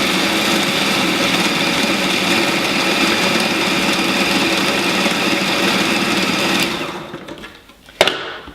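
Food processor whizzing raw raspberry pie crust ingredients, a loud steady motor whir close up running for several seconds, then cutting off with a brief clunk.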